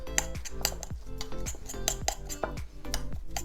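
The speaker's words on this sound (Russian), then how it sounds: "И хорошо здесь перемешиваем." Chopped herbs and grated garlic for Murmansk-style cured pork fat are stirred in a bowl with a spoon, making a quick series of close metallic clinks and scrapes in an uneven rhythm, with no talking.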